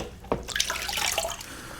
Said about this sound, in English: But I'll run water through this.